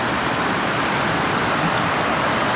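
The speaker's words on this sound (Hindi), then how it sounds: "चलो यहाँ पर बारिश हो रहा है" Steady rain falls outside, a dense, even hiss that continues without a break for the whole stretch, with no other sounds standing out above it.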